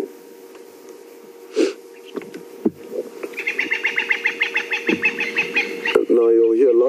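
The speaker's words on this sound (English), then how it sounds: "you'll hear lots of birds begin to alarm call as that bird flies off. Those are francolins" Francolins give rapid repeated alarm calls at a departing African hawk eagle, a rhythmic series of harsh cackling notes that builds midway over a low steady hum, with a brief voice at the end.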